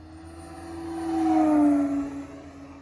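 An RC model PC-9 / T-6 Texan II airplane climbs vertically, its motor drone rising in pitch and swelling in loudness before fading again, heard from the ground at a distance.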